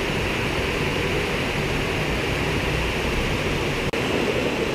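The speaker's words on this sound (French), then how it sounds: "je vais essayer la petite zone qui est sous la cascade là" Small waterfall on a trout river, a continuous loud broadband rush of falling water close by, steady throughout with one brief dropout near the end.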